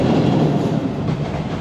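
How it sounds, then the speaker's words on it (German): A Tokyo subway train rumbling past on an elevated track just above a small apartment, a loud, steady, close roar of wheels and cars that fills the whole moment without any talk. "Und das Krasse ist, hier oben fährt die U-Bahn."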